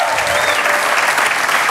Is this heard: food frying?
no